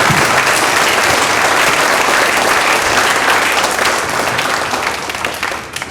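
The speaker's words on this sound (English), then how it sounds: "Round of applause from all those guys." Loud, sustained applause from a school chapel audience honoring a group of boys at San Antonio Academy of Texas, a dense steady wash of many hands clapping that holds for several seconds before easing slightly near the end.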